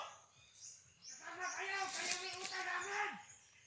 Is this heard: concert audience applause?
no